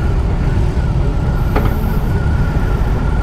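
A 2022 BMW R18 B motorcycle's V-twin engine idling after start-up, a low, steady rumble with a faint rattle, heard close with no talking.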